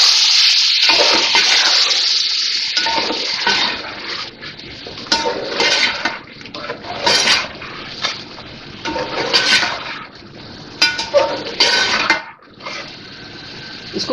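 Green chillies frying in a yogurt masala for beef yakhni pulao, a loud sizzling with repeated scraping stirs and clinks of a spoon against the pot, no talking.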